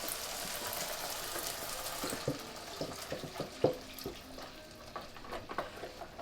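Beef stock poured into a pan of frying steak with oregano, a steady soft sizzle and bubbling with faint scattered clinks and stirring taps throughout.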